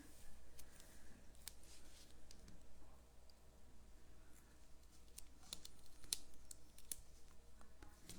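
Quiet, crisp snips of scissors trimming paper fencing on a handmade card, a series of faint clicking cuts in a calm setting with no talking.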